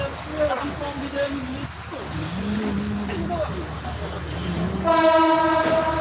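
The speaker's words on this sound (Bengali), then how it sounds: "অলরেডি ট্রেন আসতেছে তো আপনাদেরকে পিছনে ক্যামেরা দিয়ে ট্রেনটা দেখাবো" A train pulls in through Dhaka at night, its rumble building steadily beneath nearby voices until a loud horn blasts close by near the end.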